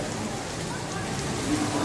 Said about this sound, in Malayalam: അപ്പോഴേക്കും നല്ല മഴ മഴ നോക്ക് നല്ല മഴ വന്നു